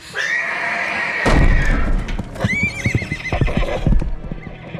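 Horses whinnying loudly from a stable, two shrill neighs near and clear, followed by a run of hooves clip-clopping and thudding on the ground as they bolt, with no talking.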